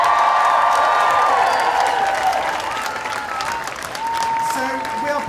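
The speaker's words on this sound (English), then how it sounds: "can I have one big cheer for all the performers who've given up" A large outdoor crowd at Pride in London applauds and cheers for performers, sustained clapping with scattered whoops, while a voice carries over the noise.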